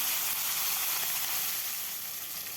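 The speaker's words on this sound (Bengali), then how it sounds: "তারপর দিয়ে দেবো মেখে রাখা মাছ।" Marinated fish hits hot mustard oil seasoned with panch phoron in a wok, a loud, dense, steady sizzle and hiss close up with no talking.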